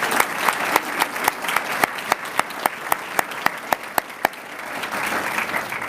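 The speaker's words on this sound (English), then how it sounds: "Let's give them a round of applause for that" Audience applause at a sheriff's office law enforcement academy graduation ceremony: a sustained crowd clapping wash with sharp, regularly spaced individual claps standing out, fading slightly toward the end.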